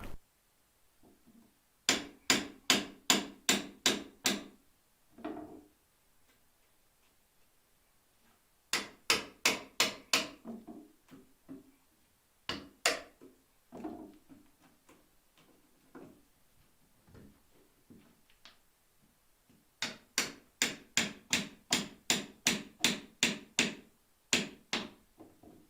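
Hammer blows while tearing out rotten flooring: rapid bursts of sharp, loud strikes in quick rhythmic runs, separated by quieter scraping and knocking of debris, close by with no talk.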